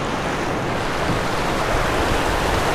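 Heavy rain pours steadily over a farm hut in the Philippines, a dense, continuous roar with no gaps, loud and close, without any voices.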